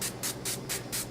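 Bronze Tattered Angels Glitter Mist is sprayed from a pump bottle onto a crafted surface in five quick, evenly spaced hissing bursts, close and soft.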